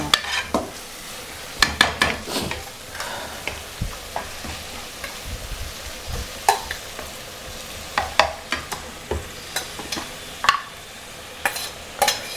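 Mixed crabs fry in a pan with ginger, garlic and tomato, giving a continuous sizzle with repeated sharp clacks and scrapes of stirring in irregular bursts.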